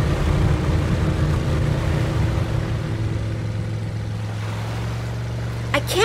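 Heavy sea surf crashes and rumbles near rocks, a steady loud roar of churning water with a low drone beneath it in an animated rescue scene.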